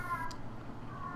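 A house cat meowing insistently indoors, a couple of drawn-out cries over a low room background, moderately close.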